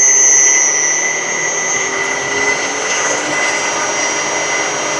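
A belt grinder motor driven by a VFD runs at full speed, near 3,000 RPM, a loud, steady, smooth whine with high tonal hums sustained without change.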